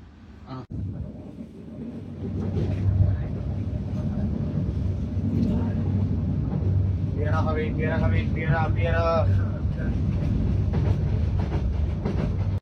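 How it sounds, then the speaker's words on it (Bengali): A Dhaka-bound train rolls through Abdulpur junction, a steady loud rumble of wheels and carriages lasting throughout, with a hum underneath and brief tonal squeals and whistles in the middle. "ঢাকাগামী একটি ট্রেন আব্দুলপুর থ্রুপাস করে যাচ্ছে"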